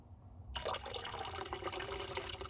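Liquid solution is gently poured off fine gold material settled at the bottom of a container during a gold pin connector refining experiment; after a short quiet start, a steady trickling pour runs continuously, close and clear.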